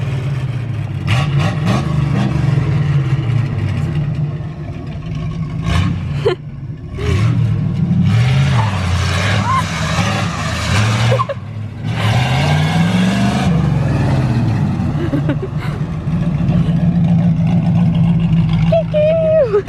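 A Corvette running with no exhaust roars loudly and continuously nearby, revving and accelerating through the gears with a deep rumble, while people talk excitedly over it.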